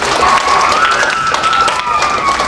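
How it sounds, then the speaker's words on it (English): A library magic show audience gives a dense, continuous round of applause for the parents, with a thin sustained tone ringing faintly through the clapping. "Give all the parents a big round of applause for supporting the library."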